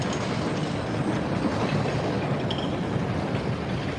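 Metro-North train with F40 heritage locomotives 1503 and 1502 passes at Forest Hills, a continuous loud rumble with clickety-clack of wheels over the rails, steady and close, with no talking.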